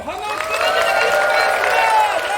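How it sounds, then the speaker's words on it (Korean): Wedding guests in a church applaud and cheer, steady clapping mixed with cheers, while a voice carries on over the crowd. "자, 우리 박수랑 환호"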